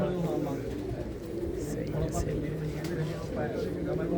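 Pigeons coo softly and repeatedly close by, their low burbling calls mixed with people talking over them.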